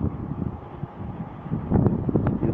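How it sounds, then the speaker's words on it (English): Strong wind gusts during a sandstorm in Qatar, a steady broadband roar with buffeting against the microphone that swells louder toward the end, no voices. "You see the strong wind."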